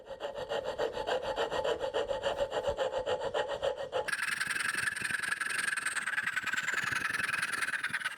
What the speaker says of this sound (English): I'm going to use the fret saw to remove that waste in the middle